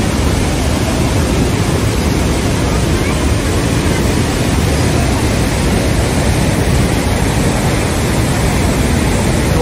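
Waterfall at Bhedaghat, a loud, unbroken roar of heavy rushing water filling the scene from start to finish, with no distinct voices standing out.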